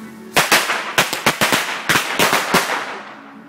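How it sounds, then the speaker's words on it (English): Fireworks or firecrackers set off at a birthday celebration give a quick series of about a dozen sharp, loud cracks and bangs in an uneven rhythm over a few seconds, heard close by. "A little fireworks."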